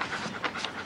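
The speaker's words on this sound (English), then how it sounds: "You're a good dog, Snobs." A dog pants close by in quick, rhythmic breathy huffs, a short burst of steady in-and-out panting.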